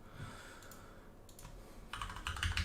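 Quick, light keystrokes tap on a computer keyboard, sparse at first and then a denser run of typing near the end, close and fairly quiet.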